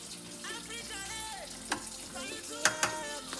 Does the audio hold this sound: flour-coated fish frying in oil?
yes